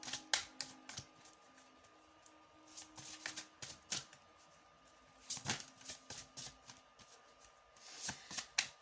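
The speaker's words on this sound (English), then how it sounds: "I will be shuffling the cards out as the reading goes on anyway" Tarot cards are shuffled in repeated bursts of crisp riffling and slapping, close and fairly quiet, with short pauses between rounds.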